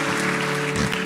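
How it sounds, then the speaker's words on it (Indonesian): Loud, dense applause from a church congregation fills the space continuously, with no voices on top. "Sekali lagi kita berikan tepuk tangan yang meriah buat Tuhan Yesus."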